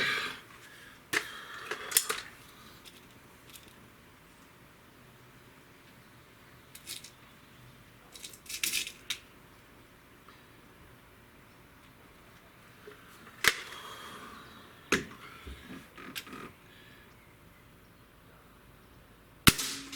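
Several separate shots from a Beeman 2015S double-barrel air rifle, each a sharp snapping crack, spaced seconds apart over quiet background with faint clicks and handling noises between them.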